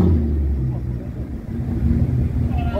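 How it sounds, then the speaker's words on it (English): A 6.2-litre car engine with a Valvetronic exhaust revs with a loud, deep rumble that builds and holds through the short clip, close by at a car show, with people talking over it. "I can give him a little rev for the video."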